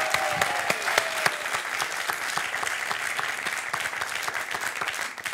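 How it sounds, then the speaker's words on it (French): Studio audience at a French TV quiz show (Questions pour un champion) bursts into sustained, dense applause, steady and fairly loud for the full stretch with a few whoops and cheers over it. "Vous pouvez vous applaudir"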